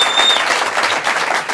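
A studio audience on a talk show applauds in a dense, loud burst of clapping that carries through the whole short moment.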